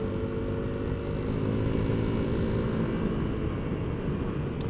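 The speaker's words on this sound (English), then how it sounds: "the noise is much better from the engine, and I can now hear more pleasant noises from the exhaust" Honda CRF300L motorcycle with its intake snorkel removed, engine running steadily with a continuous droning exhaust note, moderately loud and close, with no talk.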